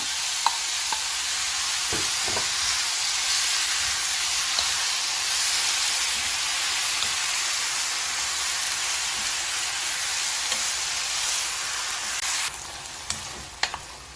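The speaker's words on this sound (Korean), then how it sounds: "이렇게 중간 만큼 고기가 볶아졌을 때요. 이제 김치를 넣어주세요." Kimchi is added to half-cooked stir-fried meat in a pan for kimchi stew, giving a steady loud sizzle and hiss that continues throughout, with a few utensil knocks near the start and end.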